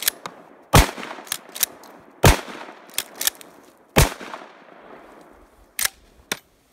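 A shotgun firing Federal rifled slugs, with several sharp, loud blasts spaced irregularly a second or so apart, each followed by a short echoing decay and a few fainter clicks between shots.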